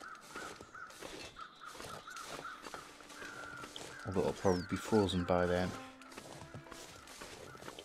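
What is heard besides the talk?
birds cawing in The Long Dark video game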